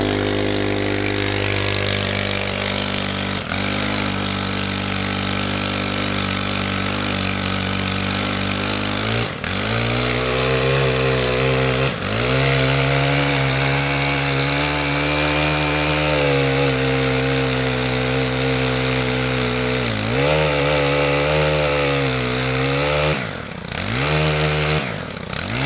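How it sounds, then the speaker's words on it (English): Small chainsaw mounted on a pole cutting tree limbs while planting a privacy screen, its two-stroke engine droning steadily at high revs for the whole stretch, with brief dips and rev changes as the chain bites into wood; loud and close, no talk. "it's literally a small chainsaw on a pole"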